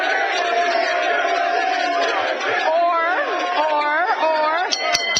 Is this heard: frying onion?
no